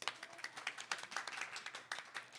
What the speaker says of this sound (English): We can even applaud for ourselves, the incredible live audience.